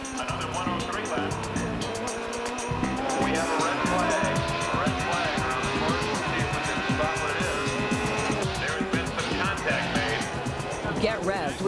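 IndyCar race cars roar past in a loud engine din with squealing tires under an excited announcer's voice in a Players Limited IndyCar Racing Series TV commercial.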